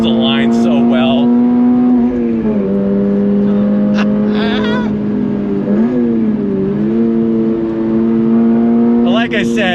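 Engine sound from a 2024 Toyota GR86 Performance Pack is piped into the cabin as a steady, tonal drone whose pitch dips and rises slightly with throttle, while a person talks over it.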